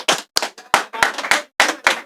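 Claps from an audience at a live Hindi poetry recital, a handful of sharp, close claps in irregular bursts with brief gaps between them, no talking over them.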